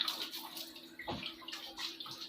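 Water runs through a Livpure water purifier filter during flushing, a steady splashing trickle with bubbly gurgles, close and moderately quiet.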